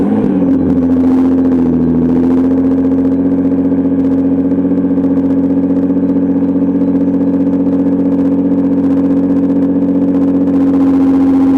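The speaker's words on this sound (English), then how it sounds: "680 horsepower GTR and hear that beautiful cold start" A Litchfield-tuned Nissan GTR making about 680 horsepower cold-starts after sitting for several days, catching with a brief revving flare and then settling into a steady, loud, close idle rumble that holds throughout.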